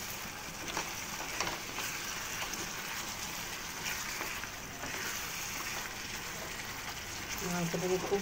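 Chicken sautés in a pan for a chicken kosha, making a soft, continuous sizzle with occasional stirring noises. It is fairly faint and steady throughout.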